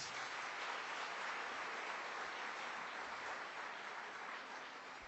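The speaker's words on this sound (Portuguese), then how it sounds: "Pode aplaudir o Senhor Jesus" Steady applause from a large crowd, a dense, even wash of clapping heard from some distance, without a break.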